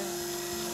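Electric clippers shaving an animal's long fur around a wound, a steady close buzzing hum held for under a second.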